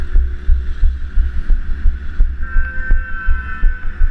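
Several motorcycles sit idling nearby, a steady low throbbing engine rumble with pulsing beats and a faint whine, no talking.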